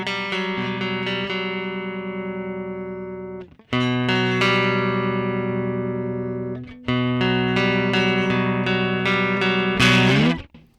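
Clean electric guitar chords through a Line 6 Helix Matchless-style amp model ring out three times, each strummed and left to sustain and decay, followed by a brighter final strum that cuts off.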